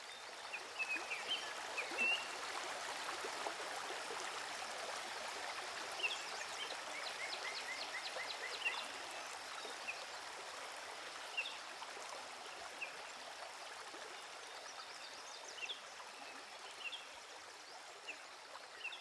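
A river babbles over small stones and rocks in a soft, continuous trickle and rush, quiet and even, with faint bird chirps in the background.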